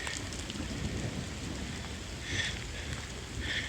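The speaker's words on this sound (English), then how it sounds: "Look at that rain." Heavy rain hisses steadily on surfaces during a thunderstorm, with low thunder rumbling underneath and a couple of brighter bursts of drumming.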